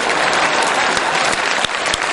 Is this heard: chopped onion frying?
no